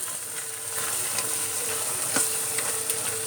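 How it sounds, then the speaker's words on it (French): Masala hits a cocotte of Indian-style black chickpeas and sets off a steady, close sizzle, with faint scraping and a few sharp clicks from stirring. "je vais verser le masala dans le cocotte"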